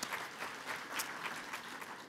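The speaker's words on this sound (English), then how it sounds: "So can we give them a round of applause?" A conference audience applauds, a faint but steady wash of many hands clapping continuously for a couple of seconds, with no voices over it.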